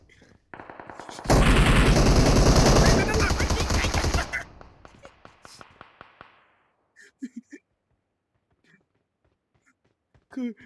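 Gunfire in the mobile battle game PUBG Mobile, a loud dense burst of rapid shots lasting a few seconds, then scattered sharp single shots and brief noises after a lull.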